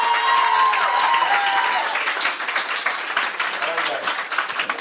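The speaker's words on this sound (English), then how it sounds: "Come on, keep that applause coming." Audience applause fills a hall at a national awards ceremony, steady and loud at first, then thinning slightly while cheers and voices mix in.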